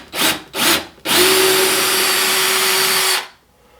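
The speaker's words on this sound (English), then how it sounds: "I'm just gonna drill back through so it actually goes through the sheetrock now" A power drill bores back through a mirror into bathroom sheetrock during an LED mirror install, with two short bursts followed by a loud, steady whine lasting about two seconds before stopping, close by and alone.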